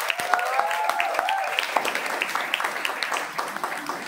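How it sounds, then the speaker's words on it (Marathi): Applause fills a hall at a school program for twelfth-grade students, steady, dense clapping from many hands that carries on throughout, with a short melodic tone and faint voices mixed in near the start. "तर जोरदार टाळ्या सना मॅमसाठी."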